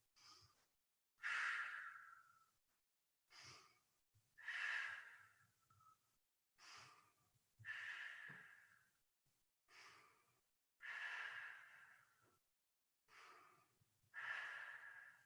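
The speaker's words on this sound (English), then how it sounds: "we'll take 5 deep breaths" Slow, deep breaths during a yoga pointer pose, each long inhale and exhale close and audible, repeating about five or six times in a steady rhythm with quiet pauses between them.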